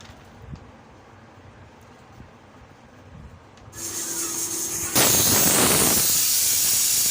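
Pressure cooker on the stove releasing steam, a quiet rustle that swells into a hissing whistle at a steady pitch and then breaks into a loud, continuous rushing blast of steam.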